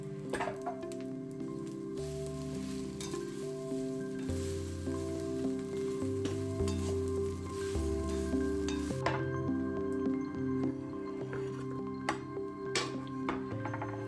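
Spicy kozhukkatta dumplings being stirred into a hot, sizzling pan: a steady frying hiss with soft scraping and stirring, heard up close beneath background music, no talking.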